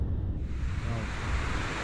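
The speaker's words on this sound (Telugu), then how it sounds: "అది చూడండి వాటర్ ఫాల్స్ ఎంత బ్యూటిఫుల్గా ఉందో" Waterfalls at the Tolantongo hot springs in Mexico give a constant rushing roar, dense and steady at close range, with some wind buffeting at the microphone and no speech.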